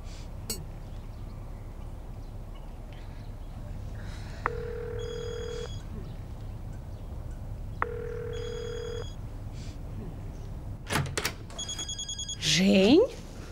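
Telephone ringing in a Russian comedy series scene: two spaced electronic ring tones with steady pulsing, then a rapid burst of ringing near the end, heard indoors at moderate volume with faint background noise.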